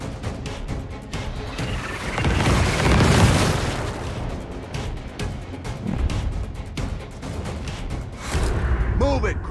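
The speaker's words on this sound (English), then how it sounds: "More bombs on the way!" Heavy booms and explosive bursts from bombs going off in the Gears Tactics video game, a broad rumbling swell peaking early then continuing in rough waves, with game voices talking over the battle noise.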